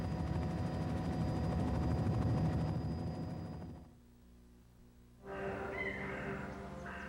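A helicopter carrying bear cubs over remote Idaho wilderness, heard as a steady, loud rotor drone that drops away briefly and then returns, with no talk over it.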